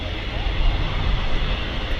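A Virgin Atlantic Airbus A350-1000 at Manchester Airport gives off a steady, loud, broadband jet roar that holds unbroken, with some talking faintly underneath.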